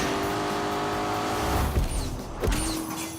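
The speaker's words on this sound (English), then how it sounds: "Those turbochargers may be a little bit annoying on the road, but here they're giving me the low-down torque that I need to get up this hill." A turbocharged Lamborghini Urus engine pulls hard up a hill, a loud close engine drone with rising revs and a couple of sharp gear-change surges near the end.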